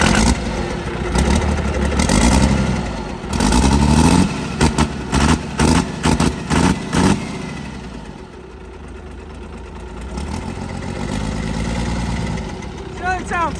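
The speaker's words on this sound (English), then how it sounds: "Feels like it almost chokes it out whenever I hit the gas." A damaged Cummins diesel in a burnout truck revs in loud, choppy bursts that stumble and sputter as the throttle is hit, then settles into a rough, uneven idle, close by with voices talking over it.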